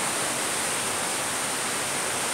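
Water of a river flowing beneath an old stone bridge in the northern part of Tskhinvali, a steady broadband rush with no pauses, fairly close and even in loudness throughout.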